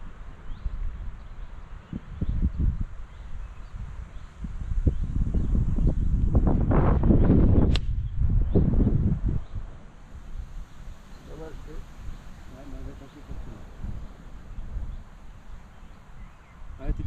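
Strong headwind gusting across a golf course, buffeting the microphone in a loud rushing swell that peaks mid-way and then eases, with people talking over it.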